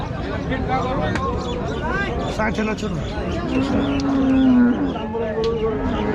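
Cattle moo loudly and repeatedly at a busy Qurbani cattle market in Rajshahi, Bangladesh, amid a crowd of chattering voices and occasional bird chirps.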